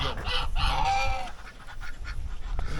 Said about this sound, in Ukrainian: Заганяю гусей